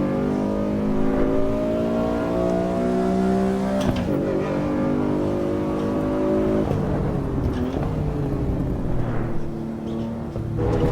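A race car engine in the Assetto Corsa EVO racing sim drones steadily at high revs, dropping pitch at a few gear changes, loud and constant with no talking.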